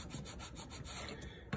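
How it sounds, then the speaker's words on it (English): Sandpaper rubbed by hand along the sides of 2x4 lumber walls for a small maintenance shack, a close, steady series of rhythmic rasping strokes, ending with a sharper louder scrape. "just sanding off a little bit of each side of my long walls"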